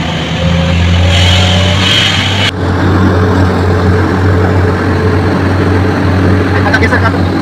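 A car engine pulls steadily uphill on a road in Sumatra, a loud, continuous drone with a low hum, heard from inside the vehicle.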